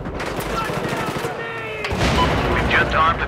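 Rapid bursts of Battlefield gunfire crackle and boom over a busy background during a rush match, with overlapping shots and a louder volley toward the end.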